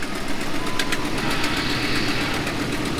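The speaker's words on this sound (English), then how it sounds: "That is a horrible exhaust leak." A Ram 1500 truck engine idles close by with a rapid, rough ticking puff from a bad exhaust leak, steady and continuous, no voices.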